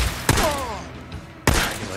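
Gunfire in the video game Days Gone, two sharp loud shots about a second apart, each followed by a short ringing tail, with faint background noise between them.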